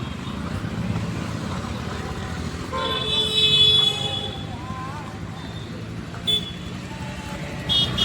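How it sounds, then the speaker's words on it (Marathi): Busy street traffic with auto-rickshaws passing, a constant engine rumble broken by several short horn toots, some near and some farther off, while people talk in the background. "तर रिक्षा भरून जात आहेत"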